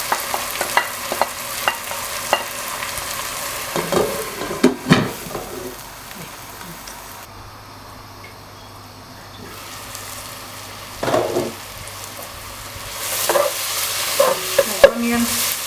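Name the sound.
spices, tomatoes, Maggi and grated carrots frying in a pan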